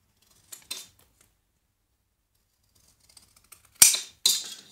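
A marked piece is cut out for a Walking Dead RV model build: a couple of short, crisp cutting bursts near the start, a quiet pause with faint ticks, then two louder, closer slicing strokes at the end.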